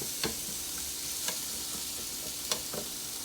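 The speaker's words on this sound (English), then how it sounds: "Just continue to stir." Vegetables with peppercorns and parsley stems and sprigs fry in a pot for lamb stock, a steady sizzle broken by about four sharp clicks and scrapes of a stirring utensil, close and alone without talk.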